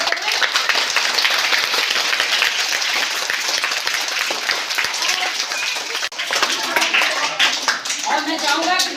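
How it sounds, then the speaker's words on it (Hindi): Seated audience at a Dr. Bhimrao Ambedkar Jayanti gathering claps to welcome a guest, loud and continuous applause with voices talking over it and a brief dip partway through. "तालियों से स्वागत करें।"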